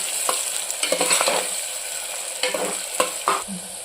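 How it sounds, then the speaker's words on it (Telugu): Onions and green chillies are stirred in a hot pan while cooking mutton, giving a close sizzle with repeated scraping strokes of the spoon at an irregular rhythm and no voices. "2 ఆనియన్స్ 4 పచ్చిమిర్చి ఇవి యాడ్ చేస్తున్నాను. ఒకసారి మొత్తం కలుపుకున్నాను."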